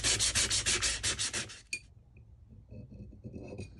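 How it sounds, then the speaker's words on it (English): Sandpaper scrubbed over a steel axe head down to bare metal in fast back-and-forth strokes, a loud close rasping that stops after about a second and a half, then a metallic clink and quiet handling. "I'll get a nice side of that sandpaper"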